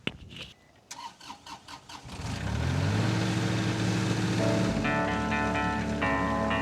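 An excavator engine cranking with a few rhythmic turns, then catching and running loud and steady at full revs, a high whine joining later.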